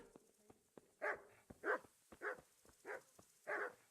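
Dog in Kingdom Come: Deliverance barking repeatedly, five or six sharp barks in a steady rhythm, close and prominent, with light clicks and game ambience between them and no talking.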